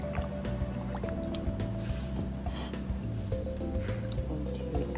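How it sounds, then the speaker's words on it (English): Olive oil going into a hot pot on the stove before salmon is added, giving soft dripping, squishing and light sizzling sounds over a low continuous background hum. "When my pot turn in a higher temperature, I'm going to add olive oil."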